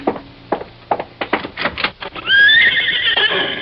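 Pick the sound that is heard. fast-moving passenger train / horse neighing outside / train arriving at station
horse neighing outside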